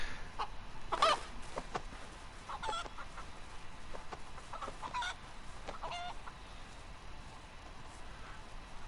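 A chicken clucks repeatedly in the DayZ survival game, with several short scattered clucks over a steady outdoor ambient hiss and no voices.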